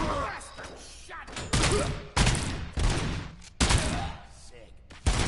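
Gunfire in the Robocop video game crackles in repeated loud bursts of rapid shots, separated by short quieter gaps, with a voice faintly underneath.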